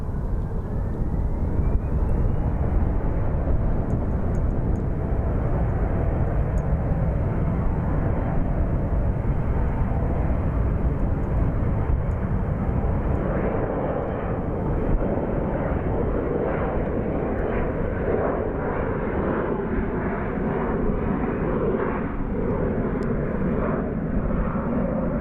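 A fixed-wing airliner departs Phoenix Sky Harbor Airport with a loud, continuous jet engine roar that stays heavy and broad for the whole stretch, rumbling deep underneath with a rising whine early on.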